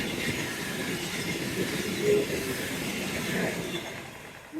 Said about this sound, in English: Happy train! We heard that, didn't we?